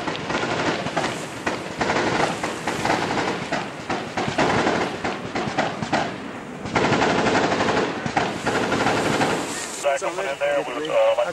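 US Army combat in Afghanistan, with loud, sustained automatic gunfire and rapid bursts of shots that continue almost without pause, while radio chatter and voices talk over the shooting.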